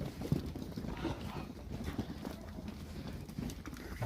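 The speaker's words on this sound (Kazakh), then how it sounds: "Мал өрістен келіп жатыр." Livestock returning from pasture in the evening, horse hooves clip-clopping in an irregular stream at moderate distance, with faint background shuffling and no talk.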